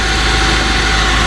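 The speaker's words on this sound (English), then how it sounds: "It's just sitting here idling." Car engine idling steadily, a dense continuous low rumble with broadband noise, close and loud, with no voices.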